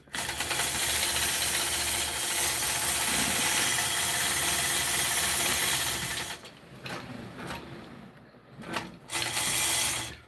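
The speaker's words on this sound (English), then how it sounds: "Let's get stitching." A sewing machine stitching a quilt runs as a loud, steady mechanical whir for about six seconds, then stops, leaving quieter clicks and a short final burst of stitching.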